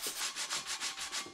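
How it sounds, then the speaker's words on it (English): Hand sanding on a curbed car wheel gives a steady back-and-forth rasp, about seven even strokes, close and fairly quiet. "I'm just trying to be very careful about how I approach the sanding of this"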